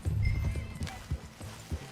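Horse hooves clip-clop in an uneven, moderately close rhythm in Red Dead Redemption 2, with a short neigh partway through, over quiet background game sound.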